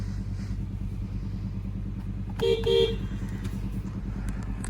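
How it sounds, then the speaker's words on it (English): Idling 2014 Honda Accord EX-L Coupe running with a steady low rumble, close by, while a short double horn toot sounds partway through. "Starts up perfect."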